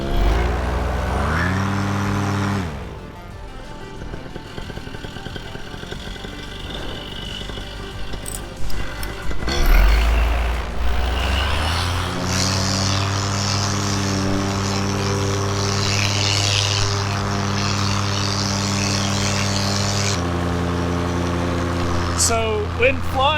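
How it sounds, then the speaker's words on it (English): Engine of a red-orange powered paraglider running steadily through a takeoff from a field beside a runway, a loud continuous drone with rising pitch partway through, alongside radio-style talk. "red orange powered paraglider taking off"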